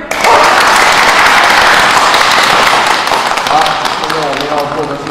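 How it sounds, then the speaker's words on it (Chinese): Audience applause at a comedy show about taekwondo training, a dense burst of clapping that stays loud for several seconds and then eases slightly, with voices mixed in. "掌声鼓励"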